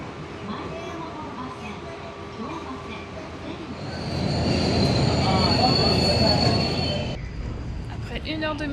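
Metro train ride heading to Nara, with steady rumble of a moving carriage, wheel squeal and a high whine rising midway, while faint voices murmur in the car.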